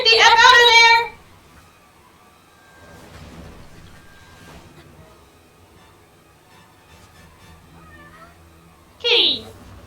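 Cat meowing inside the video game Gravity Rush: a loud, drawn-out meow at the start and a shorter rising meow near the end, with a quiet stretch of soft game sound between.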